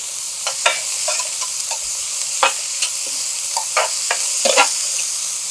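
Onions frying in a skillet crackle and sizzle up close, with frequent sharp spatula scrapes and clicks spread through the steady hiss.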